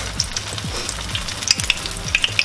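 Guyanese egg balls frying in hot oil, a continuous bubbling sizzle with sharp pops and occasional low knocks, close by.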